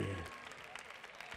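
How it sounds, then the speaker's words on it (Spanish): Applause from the audience at a beatbox battle semifinal, a dense steady patter of clapping sustained through the moment, with a brief low tone at the start. "Fora aplaudiment pels dos!"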